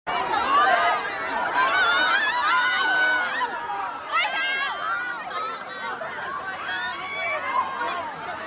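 A lively, packed crowd at Playboi Carti's Lollapalooza set fills the air with dense overlapping shouts, chatter and yelling voices, loud and continuous throughout.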